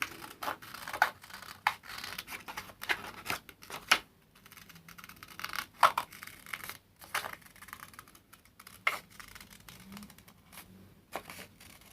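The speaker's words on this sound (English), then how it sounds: "And then finding my scissors, cut it out." Scissors cut out a stamped paper piece for a mixed-media craft project, giving a series of close, irregular snips and scratchy paper rustles with short pauses between cuts and no talking.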